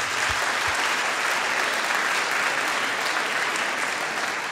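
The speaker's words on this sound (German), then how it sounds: "Hier vorne sehr euphorisch geklatscht" A live audience at a comedy show claps enthusiastically, a dense, even burst of applause held at steady loudness throughout with no speech over it.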